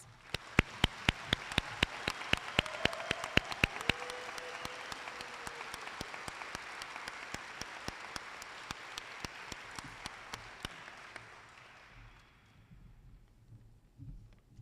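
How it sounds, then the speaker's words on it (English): An audience claps for nursing students at a pinning ceremony, with dense, sustained applause and some sharper individual claps that gradually thin out and fade near the end. "Let's give them a round of applause."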